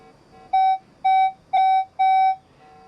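Four short, clear electronic beeps from a metal detector passed over a copper coin, evenly spaced about half a second apart, loud and close over a quiet background.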